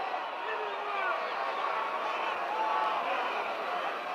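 A huge wrestling crowd roars for Bull Curry at a packed arena match, a dense, steady wall of cheering and hubbub that holds at an even level throughout.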